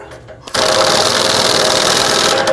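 A power tool runs on a 1999-2004 Jeep Grand Cherokee during rear upper ball joint work, tightening the passenger-side bolt: after a quiet start, a loud, steady buzzing whir kicks in and holds without a break.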